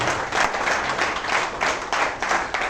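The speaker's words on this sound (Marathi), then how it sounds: "त्यांच्यासाठी जोरदार टाळ्या वाजवा" An audience claps loudly at a Latur event, the applause swelling in rhythmic waves of many hands, steady and close, with no speech over it.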